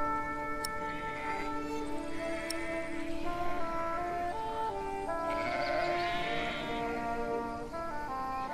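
Sheep bleat over and over amid a steady game soundtrack, several wavering cries overlapping at moderate volume with no talking, in the video game Ken Follett's The Pillars of the Earth.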